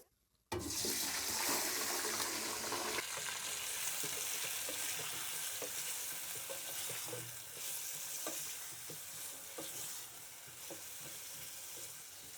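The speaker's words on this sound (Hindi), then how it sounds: "अब हम चिकन को 7 से 8 मिनट फ्राई कर लेंगे" A kilogram of chicken frying with cinnamon sticks and green cardamom for white karahi gives a loud, steady sizzle after a short silent start, with stirring scrapes throughout and no voices.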